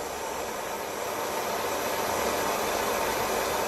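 A soldering torch flame heating a metal base piece while soldering small earring posts and jump rings, heard as a steady, close, continuous roaring hiss with no breaks.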